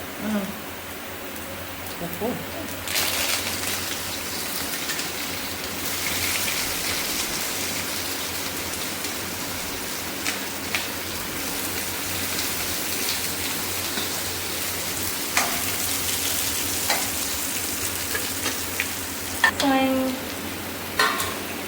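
Ingredients for mutton varuval sizzle and crackle in hot oil, a dense continuous frying hiss with occasional stirring scrapes, while a voice talks over it.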